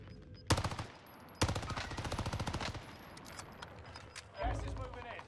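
Rapid automatic gunfire from a .410 Ironhide shotgun setup in Warzone, two sustained bursts of quick repeated shots with brief gaps, fairly close, with faint in-game chatter and a low rumble near the end.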